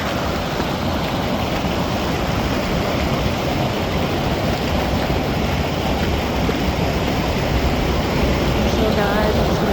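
Waves surge on a beach below the coast path between Trebarwith Strand and Tintagel, a loud, continuous roar of surf mixed with wind, steady and unbroken throughout.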